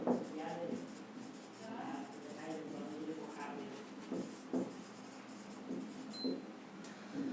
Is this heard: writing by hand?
yes